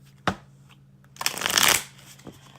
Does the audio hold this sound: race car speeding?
no